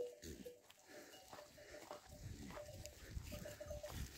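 A herd of goats on a farm kept with about 150 goats and four guard dogs, bleating in scattered calls over a busy, noisy outdoor background, mostly moderate and mid-distance.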